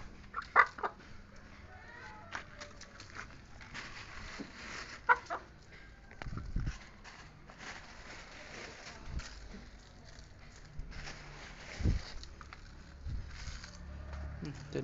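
Mother hens around a coop scattered with beach-sand grit give soft intermittent clucks and brief squawks at moderate distance, with low rustling and scratching between calls.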